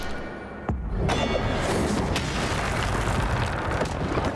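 A fiery Incendio spell erupts in Hogwarts Legacy with a sudden whooshing burst, followed by a dense, roaring rush of flame and crackle that fills the scene loudly and continuously.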